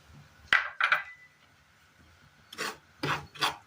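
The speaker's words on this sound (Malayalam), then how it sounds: "ചെറുതീയിൽ വെച്ച് വറുത്തെടുക്കാം" Rice flour roasting over a low flame in a pan, stirred with a spoon in short scraping strokes: two scrapes, a pause, then three more, close and dry with no talking.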